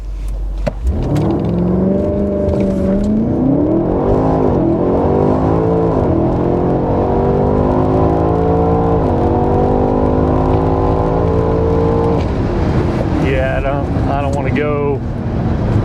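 A 5,500-pound BMW X6 M Competition launches hard on a quarter-mile run. The engine note climbs steadily through several upshifts with brief dips between gears, loud and close over constant wind noise, before easing off near the end.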